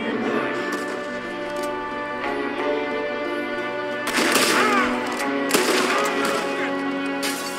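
Revolver shots in Red Dead Redemption II ring out in a few sharp cracks over a steady game music bed, with someone talking between them.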